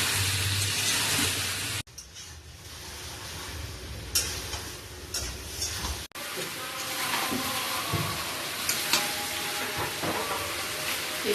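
Chicken meat with pepper powder sizzling and being stirred in a frying pan, a continuous hiss with scraping and clanking of the spoon, interrupted by two brief cuts.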